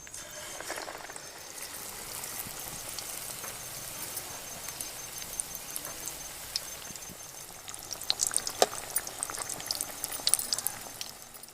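Potato and chili fritters (aloo mirchi bajji) frying in hot oil, a steady soft sizzle and crackle with scattered sharper pops growing busier toward the end, no voices.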